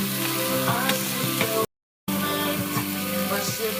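Shrimp sizzle and spatter in a hot pan as they are turned one by one, a steady close frying noise with a brief dropout partway through.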